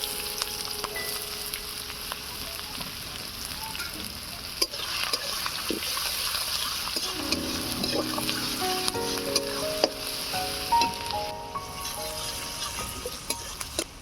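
Cracked cardamom, chopped garlic, ginger and onion frying in a pan, a continuous close sizzle broken by scraping stirs and a few sharper knocks, with no voices.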